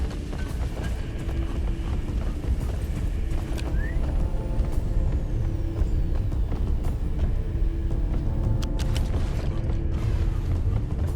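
Pump jack machine arriving in the video game Deep Rock Galactic: steady loud mechanical rumble with creaking, clanking metal and hissing air-brake-like bursts running throughout, no voices.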